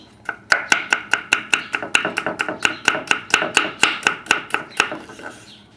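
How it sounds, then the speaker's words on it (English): A knife cutting cucumber into thin slices on a board for a seaweed salad, with about twenty crisp, evenly spaced chops in steady rhythm, close and clear with no talk. "So now we cut even this piece in half."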